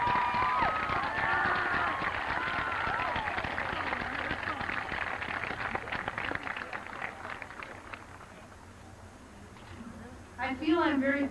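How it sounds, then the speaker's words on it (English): An audience at a high school graduation gives the class of 2000 a long round of applause and cheering, with whoops and shouts over the clapping. It fades gradually before a voice speaks near the end. "Please join with me as I applaud these students"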